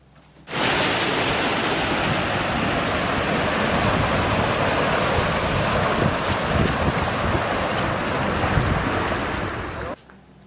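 Floodwater pouring in from the east across a field, a dense steady roar that starts abruptly, holds at the same loudness for about nine seconds, then cuts off.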